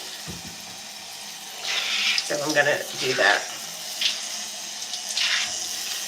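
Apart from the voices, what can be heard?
tap water running while warming up for hair wash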